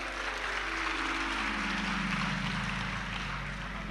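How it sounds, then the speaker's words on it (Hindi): A large audience claps at a live Shiva Mahapuran katha discourse by Pradeep Mishra in Sehore, a dense, steady wash of applause heard faint and distant, with no one speaking over it. "ताली बजाने से कुछ नहीं होगा"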